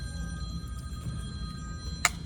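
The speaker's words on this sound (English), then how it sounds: "there's my phone" A phone rings with a steady electronic tone over a quiet room hum, ending with a short sharp click.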